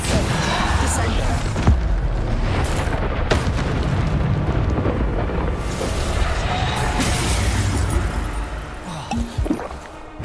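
Hogwarts Legacy spell combat fills the stretch with repeated booming blasts and bursts, loud and dense, overlapping one another, while a character's voice shouts over the fighting.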